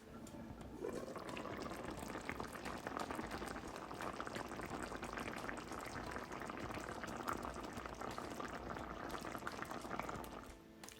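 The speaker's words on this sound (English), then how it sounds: "Fire turn off, but bubblation still was taking place." Brown stew BBQ salmon sauce bubbles in a pot after the heat is switched off, a continuous close gurgling simmer with soft popping that holds steady throughout.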